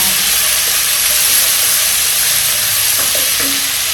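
Garlic and ginger paste sizzles steadily in a hot pan, a dense, even frying hiss that stays loud and continuous throughout with faint stirring clicks and no voices.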